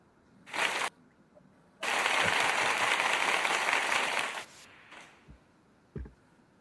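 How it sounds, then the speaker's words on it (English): Canned applause added as a media asset during a livestream, a brief clapping burst followed by a longer steady wash of applause that cuts off, then a few faint clicks. "Where's the applause?"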